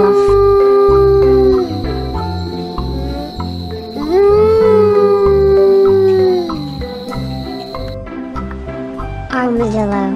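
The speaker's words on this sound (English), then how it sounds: "Arctic wolf." An Arctic wolf howls in long rising and falling tones, two sustained clear howls with music playing underneath.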